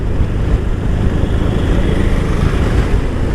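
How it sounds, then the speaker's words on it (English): A 2020 BMW R18 motorcycle engine pulls steadily in fifth gear, a dense low rumble building slowly and evenly under wind noise while riding, loud and continuous throughout. "the engine slowly builds up the power"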